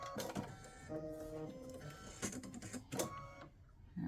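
A home embroidery machine stitches a ribbed Christmas stocking, its mechanical whir and rapid clicking running continuously at close range with a few louder bursts and no talk.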